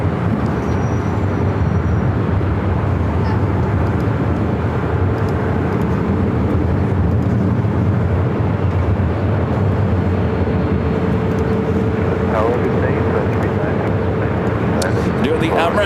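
An American Airlines Airbus A321neo bound for Honolulu rumbles at Los Angeles airport, a steady broad roar of jet engines and airport noise holding at constant loudness throughout, with a faint higher tone near the end.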